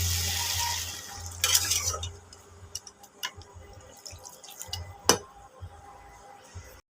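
Salted chili chicken sizzles in a pan after a little water is added, hotel-style Bengali cooking. A hissing burst comes first, then fades into quieter bubbling with occasional clinks and drips from stirring utensils.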